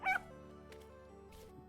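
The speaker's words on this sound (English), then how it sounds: "Oh, and there's a puppy. A young dog." A young puppy in the video game Vintage Story gives a short, high whimpering yip at the start, then a couple of faint softer whines over a quiet steady game ambience.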